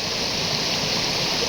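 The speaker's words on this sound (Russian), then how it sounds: "Во-первых, сам по себе водопад уже много значит." Waterfall at the source of the Gums river roaring steadily, a dense continuous rush of water close by with no voices.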